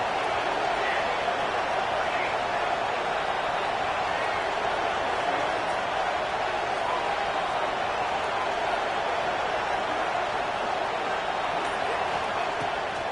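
Football stadium crowd at a college game roaring steadily before a big third down, a dense, continuous wall of cheering with a commentator talking over it throughout.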